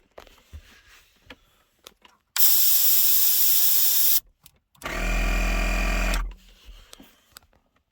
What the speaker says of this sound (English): Here's my onboard compressor.